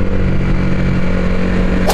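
A powerful motorcycle roars close by during a Sunday group ride, a loud continuous engine drone with a brief sharp burst at the end.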